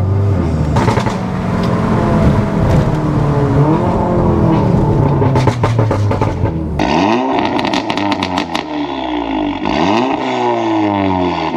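A Ferrari Testarossa engine revs loudly and continuously up close, pitch sweeping up and down through several rises and drops, with a sharp shift in tone partway through.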